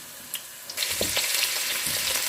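Soaked dried shiitake mushrooms stir-fried in a hot pan, a steady close sizzle with scattered scraping and tossing clicks running throughout.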